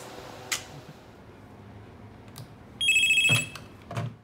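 A telephone rings in a hospital on a doctor's night shift: a short electronic ring near the start, then a louder, sustained ringing burst toward the end, with a few faint clicks in between.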